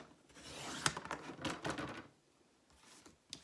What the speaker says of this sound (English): So I can just do a little trim now.